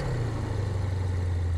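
A V8 car engine in a car mechanic game rumbles at a steady idle, a deep, even low drone held close and alone, with no talking over it.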